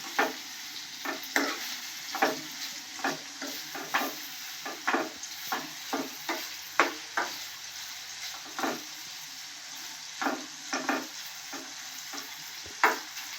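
Paneer cubes frying lightly in a non-stick kadai, a constant soft sizzle broken by repeated sharp scrapes and taps of the spatula as the pieces are turned, close up with no voices.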